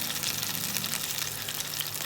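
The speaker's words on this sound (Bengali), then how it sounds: "এখন আমি তেল দিয়ে মাছটা ভুনা করব।" Catla fish frying in hot oil in a pan, a dense continuous sizzle heard close up with no talk.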